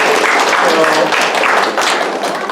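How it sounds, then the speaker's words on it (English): A church youth-session audience breaks into loud, dense applause, with a continuous wash of many hands clapping together close by and holding steady throughout. "Let's give her a round of applause."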